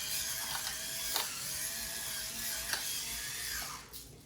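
Pepper grinder cranked over pork for Instant Pot sweet and sour pork, a steady ratcheting grind of clicks under a faint hiss, close and fairly quiet, with no voices.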